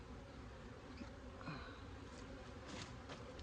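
Honeybees buzz around an open hive during a spring inspection, a soft, steady drone of many insects with a few individual bees passing close.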